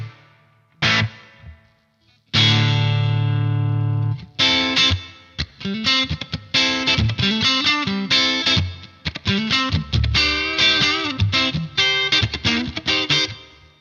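Electric guitar played through a Marshall DSL100 amp on its clean channel with reverb, ringing chords and picked notes with lingering tails, loud and alone without talk.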